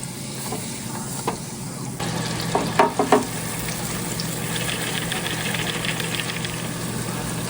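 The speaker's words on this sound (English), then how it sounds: "Hear the sizzle. You don't get any better than fresh fried crappie." Fresh crappie fish fries in a pan with a steady, close hiss and crackle of sizzling oil, broken by a few quick clinks and clatters of utensils midway.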